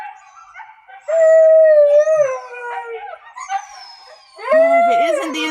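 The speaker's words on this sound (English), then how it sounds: "Oh, if it isn't the inside dogs, it's the outside dogs." Several dogs howl outdoors in long, wavering cries that rise and fall, a loud nearby howl up front and another swelling in near the end, with fainter yips between.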